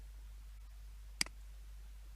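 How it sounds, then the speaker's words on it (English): A single sharp computer mouse click, close and clear, over a low steady hum. "At first I'm clicking."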